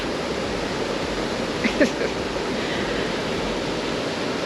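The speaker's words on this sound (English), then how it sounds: "and the beauty of the waterfalls" Steady, broad rushing of a waterfall on a rapids hiking trail fills the whole stretch, loud and continuous, with a faint brief sound poking through midway.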